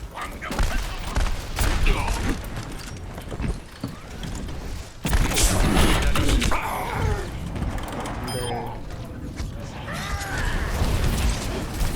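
Rapid bursts of gunfire and clanking mechanical effects from the Overwatch video game, loud and dense throughout, with a sharp jump in intensity midway and a voice talking over the action.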